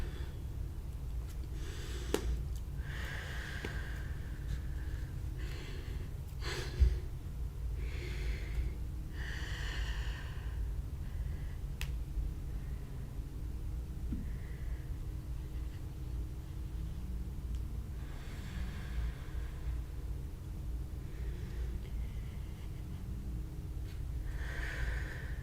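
Slow, repeated breaths in and out during a yoga low lunge, soft airy inhales and exhales recurring every few seconds over a low steady background rumble, with a faint knock partway through.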